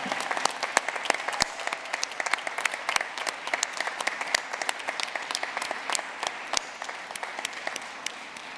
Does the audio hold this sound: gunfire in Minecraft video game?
no